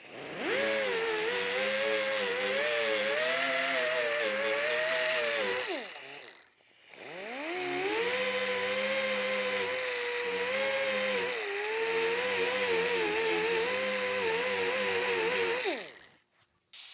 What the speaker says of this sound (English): now I'm gonna switch to the 120 grit disc and go ahead and now feather this out just a little bit